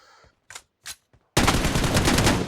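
Gunfire in the battle royale game PUBG Mobile: a few sparse clicks and short bursts, then a sudden sustained barrage of rapid, loud shots that continues to the end.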